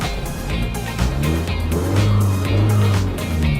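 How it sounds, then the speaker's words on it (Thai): A modified Isuzu D-Max Blue Power Spacecab 1.9 DDI automatic pickup is revved hard, its loud engine roar rising and holding strong close by, alone without talk. "เดี๋ยวเรามาลองฟังเสียงเบิ้ลของคันนี้กันดีกว่า"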